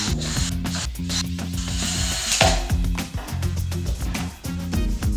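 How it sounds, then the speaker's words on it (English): Cam bolts are screwed into holes in a shelving panel, with rapid ratcheting clicks and short rubbing bursts repeating close up. "Next, screw in cam bolts in each 5mm hole."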